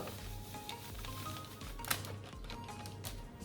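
Espresso brownie batter with flour being stirred in a bowl, a soft continuous scraping and swishing, faint and close, with one small clink partway and no voices.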